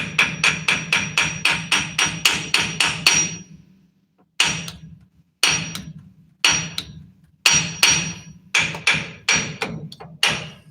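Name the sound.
hammering drive shaft pinion seal into place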